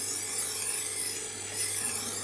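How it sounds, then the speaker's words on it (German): A kitchen knife blade drawn with light pressure across the grinding wheel of a Tormek T-1 kitchen knife sharpener, giving a steady, close, bright rasping hiss with a faint motor hum beneath and no voices. "führe ich einfach das Messer durch die Klemme, die mich führt auf die Schleifscheibe mit leichtem Druck"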